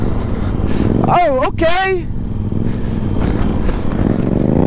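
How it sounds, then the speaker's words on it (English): Yamaha FZ-07 motorcycle on street tires doing circle wheelies, its engine droning steadily and loud throughout with revs rising and falling, while people talk and a brief whistle cuts in over it. "trying to do some circle wheelies on this FZ07"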